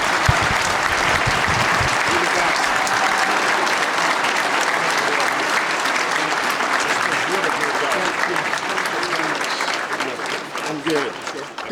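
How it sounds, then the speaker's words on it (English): Loud, sustained applause from a large audience fills a union hall at a steamfitters' industry day event as the governor is called to the stage, with cheering voices mixed into the clapping throughout. "Let's hear another round of applause."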